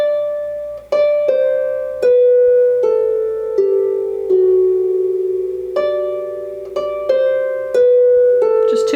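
Plucked harp notes ring out one after another in a slow, gentle melody from the carol See Amid the Winter's Snow, each note decaying before the next, with no voices.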